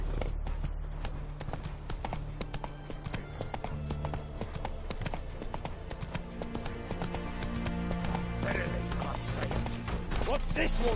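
Roach the horse galloping in The Witcher 3, with rapid rhythmic hoofbeats pounding continuously over ambient game music and faint spoken lines.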